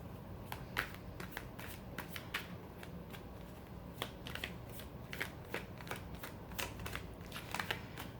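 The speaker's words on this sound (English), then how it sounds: "Let's get a couple more cards out here for your advice" Tarot cards shuffled by hand at a reading table, a steady run of quiet papery riffles and flicks spread over several seconds, soft and close with a low background hum and no talking.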